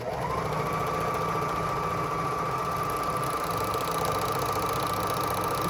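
Sewing machine stitching along the frayed edges of a silk worship flag, a steady, close motor whir with a constant high-pitched running tone that holds without pause.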